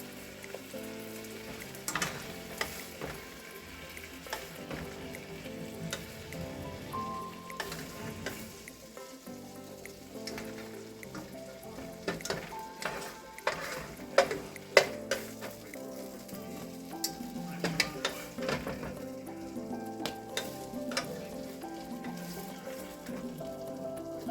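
Vegetables frying in ham drippings in a pan, a steady crackling sizzle with sputtering pops and occasional stirring clatter, continuous and close.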